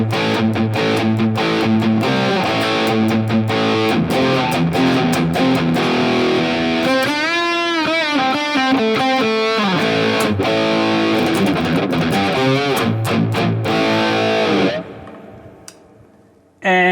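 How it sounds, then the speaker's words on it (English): High gain distorted electric guitar through a Soldano amp model on a NUX MG-30, playing dense chugging riffs and sustained chords, with bending lead notes in the middle, ending in a brief fade and sudden cutoff. "So here's the effects chain of one patch which I created with the Soldano amp"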